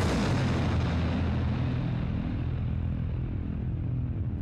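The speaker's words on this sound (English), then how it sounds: "A detonation appeared on his planet, wiping him, it, and the surrounding solar system out in a matter of seconds." A powerful explosion sound effect: one massive detonation that opens at full force and rolls into a long, deep rumbling decay, alone with no voices.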